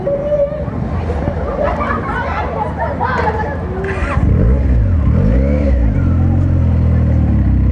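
A Benelli 300 TNT motorcycle engine runs close by and then revs up strongly, its deep pulsing note rising and falling over the last few seconds, while people talk over it throughout.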